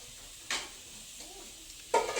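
Beans and carrots stir-fry in a pan, with a faint, quiet sizzle and a couple of sharp scraping stirs from a utensil against the pan.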